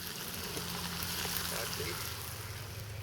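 Bacon for a sandwich fries in a pan outdoors by the River Thames, giving a steady close sizzle and crackle throughout with a low hum beneath.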